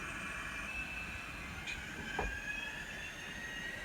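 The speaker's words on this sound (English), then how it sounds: "That sounds very much like a EMD again with a turbo" A model railroad sound decoder plays an EMD diesel locomotive with a turbo, a faint steady drone with a whine and brief metallic squeals, alone and fairly quiet.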